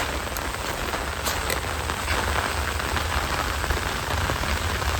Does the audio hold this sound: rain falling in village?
yes